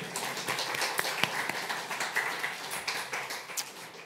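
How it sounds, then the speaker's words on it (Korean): A church congregation claps in light, scattered applause with a few distinct sharper claps, fairly quiet and lasting about four seconds. "박수 한 번 더 해줄까요?"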